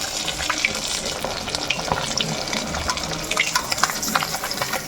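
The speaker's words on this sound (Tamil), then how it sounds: "ஸோ இந்த மாதிரி ரெண்டு சைடும் நல்லா டீப் ஃப்ரை பண்ணிக்கோங்க." Fish deep frying in hot oil for a crispy fish fry, a steady dense crackling sizzle with bright bubbling pops throughout, close and fairly loud, no talking.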